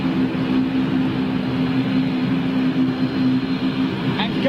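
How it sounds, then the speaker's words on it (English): A TAP ATR turboprop airliner taxiing, with a steady droning engine hum and a sustained tonal whine held throughout at moderate distance, while people talk over it. "Oh, look, an ATR, TAP ATR coming out as well."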